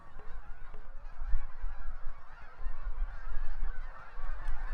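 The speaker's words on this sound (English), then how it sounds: "as Canada geese cross paths with cackling and snow geese" Canada, cackling and snow geese honking together during fall migration in Manitoba wetlands, a dense overlapping chorus of many calls from a large flock, continuous and fairly loud with no talking.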